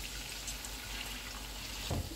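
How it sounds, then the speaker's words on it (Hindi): A quarter cup of water is poured into mutton karahi cooking in a pan, a brief steady pour with a sizzle and splash near the end. "इसमें 1/4 कप पानी डालेंगे,"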